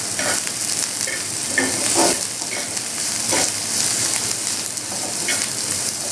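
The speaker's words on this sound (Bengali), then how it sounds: "পেঁয়াজটা একটু হালকা করে ভেজে নেব।" Onions frying in a pan for a jackfruit seed kebab, a steady close hiss of oil with a few soft stirring scrapes throughout, no voices.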